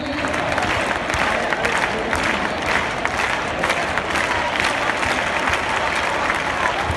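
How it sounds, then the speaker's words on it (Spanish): Crowd applause at a recortes contest in Valencia, a dense, steady wash of clapping from a large audience that fills the whole stretch at a loud, even level, with faint voices mixed into the noise. "¡El aplauso para Ana González!"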